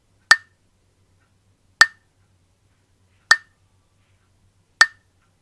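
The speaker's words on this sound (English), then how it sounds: "In order to generate repetitive sounds, I use a metronome app in my phone." Four crisp electronic ticks from a phone metronome app at an even, slow pace, about one and a half seconds apart, with silence in between.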